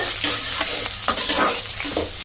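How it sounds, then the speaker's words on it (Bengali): Sliced onions fry in oil until browned, giving a loud, close sizzle broken by brief scrapes and knocks of a spoon stirring the pan. "পেঁয়াজটা লাল লাল করে ভাজা হয়ে গেছে"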